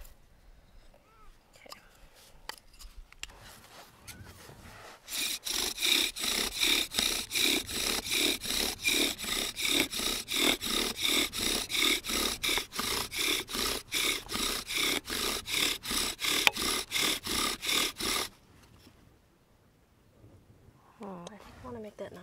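A bow drill spindle grinds against soft wood in rapid back-and-forth strokes, a loud raspy rhythmic sawing lasting about thirteen seconds, with quieter scraping and a brief voice around it.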